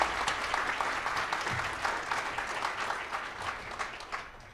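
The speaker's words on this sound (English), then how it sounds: "Let's give them a round of applause." Audience applause at a community tech conference kickoff in Calgary, a sustained, dense clapping from a large crowd lasting several seconds, fairly even in loudness without talk over it.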